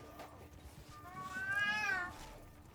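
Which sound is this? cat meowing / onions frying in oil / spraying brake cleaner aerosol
cat meowing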